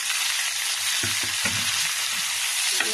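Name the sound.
frying boiled greens with browned onions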